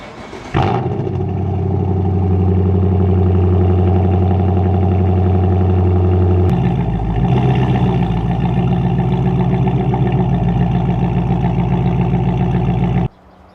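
Engine of a widebody Dodge Charger idling and revving as the car is pulled into a garage for a header install. A loud steady drone rises in pitch partway through and holds there, then cuts off abruptly.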